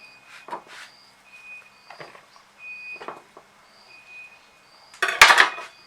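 Galangal pounded for boiled chicken with fish sauce, cooked over a home charcoal stove: several irregular dull knocks and clatters, fairly close, ending in a louder, denser burst of strikes.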